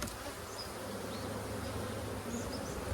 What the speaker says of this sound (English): Bees on all the frames.